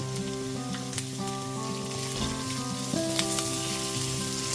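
Small pieces of potato frying in a pan over a low to medium gas flame for sweet poha pulao, a steady close sizzle with faint crackles, no talking.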